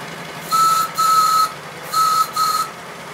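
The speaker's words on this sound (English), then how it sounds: "The whistle is a bit feeble," A steam whistle on a 5-inch gauge model Lion locomotive, running on about 25 psi, sounds four short toots in two pairs, a thin steady tone, fairly loud over low background rumble.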